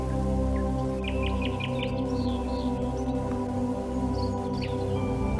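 Birds chirp at dusk in short, quick tweets, a rapid little series early on and a few scattered calls later, fairly faint and set over a loud, steady tonal drone.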